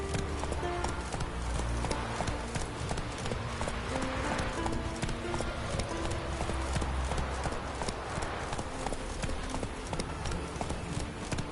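Roach, the horse in The Witcher 3, gallops with rapid, rolling hoofbeats that drum steadily and loudly throughout, a brief voice rising over them.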